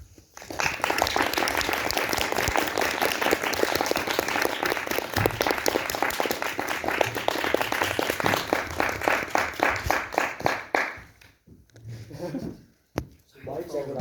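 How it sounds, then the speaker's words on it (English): Audience applause fills the room after a final major project pitch, steady and dense for about eleven seconds before thinning out, with a voice speaking briefly at the end. "Stop clapping."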